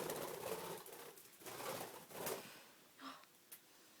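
A pet bird coos softly in a bedroom, a few faint, breathy low calls spread over a few seconds against quiet room noise, with no talking.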